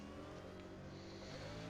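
Next Gen race car engine running laps at North Wilkesboro in iRacing, a steady, faint droning whine that holds an even pitch throughout with no voices over it.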